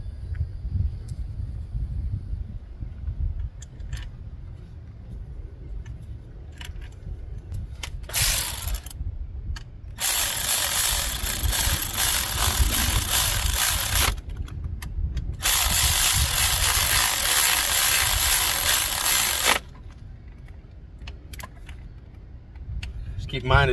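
Bolts being tightened on an aluminum transmission of a GR Corolla during a drivetrain upgrade, with rapid ratchet clicking in long runs, stopping and starting, over a low background rumble.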